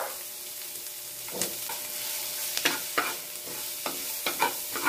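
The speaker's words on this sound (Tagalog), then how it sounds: "Gigisa tayo ng sibuyas." Onion and garlic sautéing in oil in a pan, a steady soft sizzle with repeated scraping stirs of a utensil against the pan, close and moderately loud, no talking.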